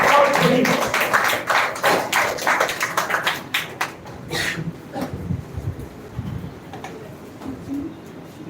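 An audience at a speech competition grand finale gives a speaker a round of applause, dense hand clapping for several seconds that tapers off to a few stray claps.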